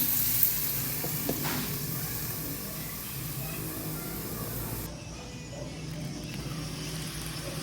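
Meat sizzling steadily in a pan as it fries and gets stirred, a constant hiss with a few faint scrapes near the start, close and even in loudness.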